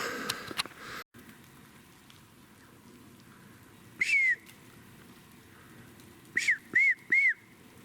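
A single clear whistle sounds in quiet woods, followed later by three short, rising-and-falling whistles in quick succession.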